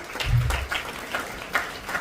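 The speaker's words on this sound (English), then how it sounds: "Please give a huge round of applause for the SSC achievers." Applause from the audience for SSC achievers at an All Goa Muslim Jamat Association event in Panaji. Moderate, loose clapping rises and falls in uneven bursts, fairly close.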